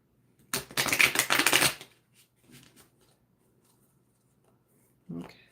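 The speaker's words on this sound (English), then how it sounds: "Let me shuffle again." Tarot cards shuffled in a single dense burst of riffling lasting about a second, followed by faint handling sounds and a short noise near the end.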